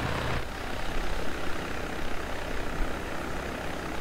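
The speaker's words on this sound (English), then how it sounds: "helicopters are loud" Helicopter rotor and engine noise in a backyard at night, a steady broadband roar with low thumping that holds at a constant close, loud level throughout with no speech.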